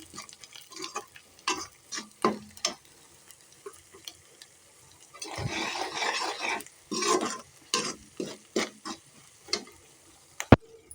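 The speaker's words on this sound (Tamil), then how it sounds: "இப்போ இதெல்லாம் நல்லா வதக்கிக்கலாம்" Spice masala is stirred in a pan on low heat for ivy gourd curry, with a quiet sizzle broken by scraping and clicking spoon strokes. A louder burst of frying swells partway through before settling back to soft, intermittent stirring.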